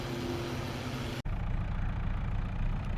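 A telehandler engine running in Farming Simulator 22, a steady mid-pitched idling drone with a tonal hum that cuts out sharply and returns as a rougher, lower rumble.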